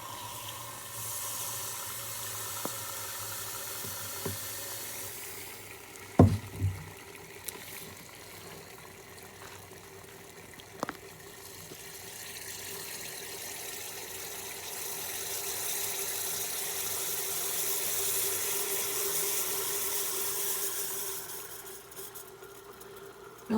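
Liquid nitrogen pours into a 50 ml beaker, giving a long, steady hiss of boiling and fizzing that builds gradually. A few sharp clinks and taps of glass are heard near the start, and no one speaks.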